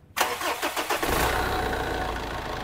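A neglected Mitsubishi Pajero engine cranks briefly with a rapid chugging starter, then catches and settles into a loud, steady idle close by.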